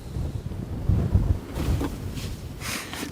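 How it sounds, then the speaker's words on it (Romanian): Gusty outdoor wind buffeting the microphone in low rumbling bursts, with a few brighter whooshes of air, fairly close and with no talk. "Bate vântul, fraților"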